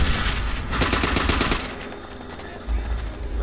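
Rapid automatic gunfire in Call of Duty, a fast rattling burst of shots for about a second amid steady battlefield noise, followed by a low rumble, fairly loud in a busy game mix.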